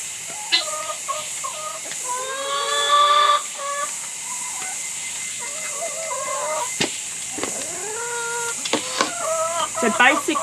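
Backyard chickens in a tropical setting cluck and call in a steady, busy chorus close by, with rising squawks and short bursts throughout, while a person talks over the flock.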